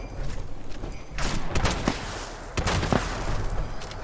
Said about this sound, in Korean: 제가 폭발 샷건 보여드릴게요